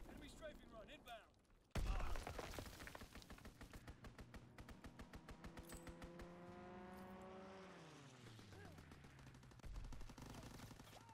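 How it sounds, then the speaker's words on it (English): Video game enemy strafing run in ranked play: rapid machine-gun bursts with an aircraft engine roaring and pitching down as it passes, loud and dense over battlefield noise. "Enemy strafing run inbound."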